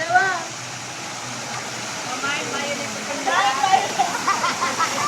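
Water splashes and rushes steadily in a kiddie pool at the Splash Island water park, with children's voices and chatter over it and livelier splashing toward the end.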